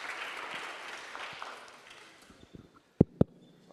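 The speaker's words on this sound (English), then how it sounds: "maybe we can give him a round of applause again for letting us use this gorgeous venue." Audience applause fades gradually at an art event held in a grand venue, leaving quiet room tone and then two sharp, loud knocks or claps near the end.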